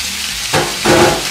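Shrimp, scallops, calamari and tilapia hit a hot oiled pan, giving a loud close sizzle that surges in two bursts as the seafood is added and stirred, with no talking.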